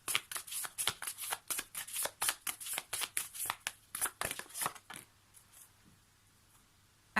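Small seasonal oracle cards being shuffled by hand in a quick run of crisp riffling flicks for about five seconds, close and clear, followed by a near-silent pause.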